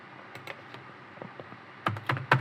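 Scattered keystrokes on a computer keyboard while an IP address is typed, a few light, sparse clicks building into a quick, louder burst of keys near the end, close by with no talking.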